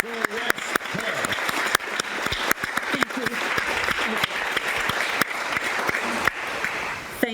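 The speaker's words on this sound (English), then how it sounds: "please rise and join me in a round of applause for the member for West Perth" Members and guests in the Parliament of Western Australia chamber give a standing round of applause, a continuous wash of clapping with sharp individual claps standing out and a few faint voices beneath.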